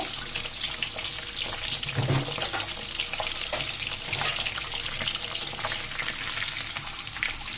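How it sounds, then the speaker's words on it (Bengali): Eggs sizzle and fry in oil in a pan for Bengali egg korma, a steady crackling hiss with occasional stirring and scraping, close and continuous, no talking. "দেখুন বন্ধুরা আমার ডিমটা বাজা হয়ে গেছে আমি উঠিয়ে নিব"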